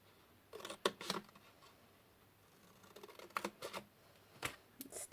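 Crisp snipping of scissors cutting acetate close up, a few quick cuts, a pause, then another cluster of snips in a quiet room.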